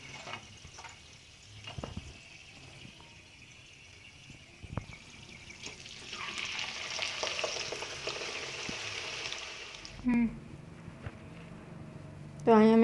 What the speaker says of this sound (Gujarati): હવે આપણે વધેલી બધી જ છે તે આલુ ફ્રેન્ચ ફ્રાય હવે આપણે બધી જ આવી રીતના ફ્રાય કરી લઈએ.